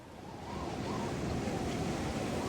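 Calm sea waves wash against a reef off Tokelau beside an anchored boat, a steady broadband rush that swells slightly, with wind noise and no talking.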